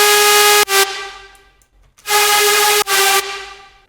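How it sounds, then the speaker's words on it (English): Two loud, bright bursts of a synthesizer supersaw, built from a saw wave with unison turned up to thicken it, each holding a dense buzzy chord before cutting off and decaying, with no talk. "The way you create a supersaw is by using a saw wave, obviously, and then turn up the unison up until it sounds significantly fatter."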